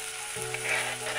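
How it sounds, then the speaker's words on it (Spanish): Oil, paprika, tomato and onion sizzle steadily in a pan, wok or pot, a close continuous hiss with a low hum underneath, no voices. "En una olla, sartén o wok, vamos a poner un poco de aceite, pimentón, tomate y cebolla."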